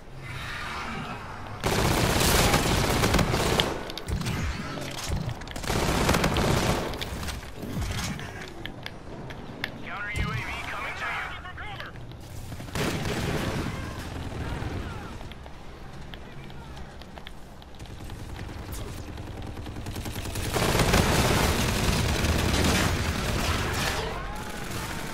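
Turret gunfire in Call of Duty: Infinite Warfare, loud bursts of rapid automatic fire and heavy booms arriving in several separate waves, with a voice talking between and over the shooting.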